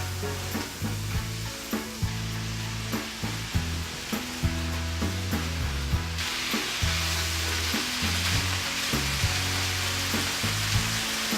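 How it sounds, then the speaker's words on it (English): Carrots, onion, broccoli and tofu sizzle loudly in a stir-fry pan, with steady frying hiss and rhythmic scraping and tossing strokes as the vegetables are stirred throughout. "Now I'll toss the carrots and onion into the sauce, and I'll add my broccoli and tofu to the mix and stir it all together."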